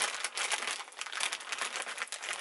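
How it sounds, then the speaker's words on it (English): A thin plastic bag crinkles and rustles as a wig is stuffed inside, dense close crackling that continues without pause and without talk. "I'm just going to place it inside the bag that the wig came in."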